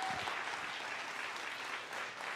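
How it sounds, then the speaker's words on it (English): An audience gives a sustained round of applause for the young orators at a lower school oratorical event, dense and even, filling the hall without any voices on top. "let's give a round of applause to all of our orators today."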